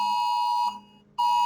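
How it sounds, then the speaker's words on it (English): Loud, steady electronic alarm tone of an Amber Alert emergency broadcast, a sustained shrill pitch that cuts out briefly for about half a second and then resumes at full strength, heard alone without talk. "And we're getting some kind of alarm."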